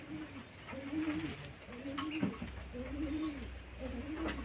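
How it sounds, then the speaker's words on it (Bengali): A pair of Dobaj pigeons coo in repeated rising-and-falling phrases, a steady rhythmic cooing over a soft background hiss, fairly close and moderately loud. "দেখুন পায়রা দুটো"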